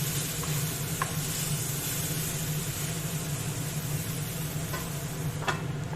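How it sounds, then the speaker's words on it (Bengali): Spiced mixed vegetables for a Bengali niramish panchmishali chhokka frying in a pan over low heat, a steady soft sizzle with a few faint scraping ticks of stirring, no voices. "ভালো করে কষিয়ে নিতে হবে"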